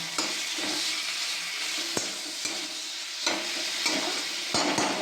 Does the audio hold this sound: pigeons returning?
no